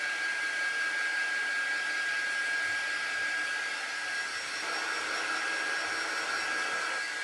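Hair dryer blowing steadily at close range to dry craft paint on Dollar Tree cutouts, a continuous even whoosh with a thin whine, alone without talk.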